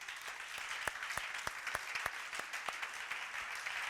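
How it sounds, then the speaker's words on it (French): A church congregation applauds and cheers at a evening prayer service, a steady wash of clapping with a few sharper, louder claps standing out across the crowd. "Vous êtes courageux, est-ce que vous pouvez acclamer pour vous-même?"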